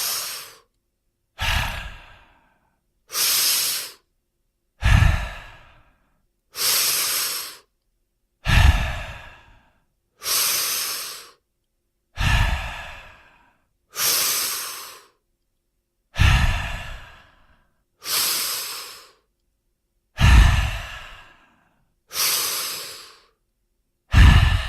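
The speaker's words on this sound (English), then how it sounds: "take 10 highly connected, highly conscious breaths" Deep, deliberate breathwork: about a dozen long, forceful breaths, each a loud whooshing rush followed by a short silence, repeating in a slow, steady rhythm, close and alone.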